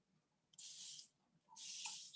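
Two bursts from an aerosol-style spray bottle misting water onto leather, each a bright steady hiss lasting about half a second, close and clear against a quiet room.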